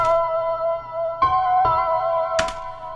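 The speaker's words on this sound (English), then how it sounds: "open chords or power chords." Open power chords ring out on guitar, struck about four times with sustained, resonant tones between strums.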